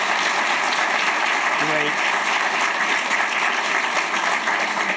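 A crowd gives a round of applause for the idea track winners at an early education innovation challenge pitch event. Steady, loud clapping fills the whole span, and a brief spoken word cuts in early over it.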